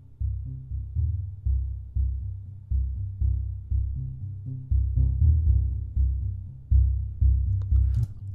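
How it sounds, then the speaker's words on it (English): Sub-microphone samples from Native Instruments' Noire grand piano, recorded with a reverse-wired NS10 speaker under the low keys: deep, booming bass notes repeat in a steady pulse, each swelling and decaying, with no voices. "Activates the sub microphone samples recorded with a reverse wired NS10 speaker under low keys of the grand piano."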